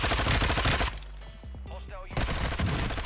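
In Warzone 2, a Vaznev rifle fires rapid loud bursts that bracket a quieter stretch of game sounds, close and dense, with fast shots returning at the end.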